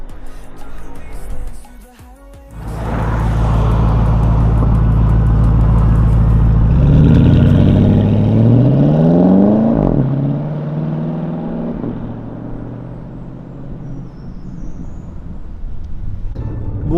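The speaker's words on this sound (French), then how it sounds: "là on est à bord d'une 997, on est avec notre ami Jürgen. On va aller faire une petite balade." Porsche 997 engine heard from on board while driving: a steady low drone climbs as revs rise, with stepped pitch sweeps midway, then eases into a quieter cruising hum, loud and close.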